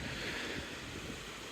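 Flash floodwater rushes steadily through a damaged road culvert in Arkansas, a faint continuous broadband roar with no voices.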